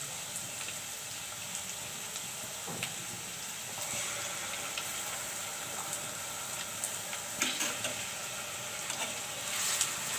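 A spice mix sautés in a pan for chicken skin with tomato and green chili, a soft, steady sizzle with faint stirring clinks, fairly quiet and close.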